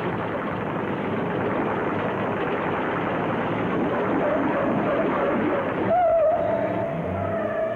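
A 1960s Ford car climbs a flight of steps, its engine a continuous rumbling drone with road clatter, taken from a vintage commercial soundtrack, steady and moderately loud, with a brief whistling tone near the end.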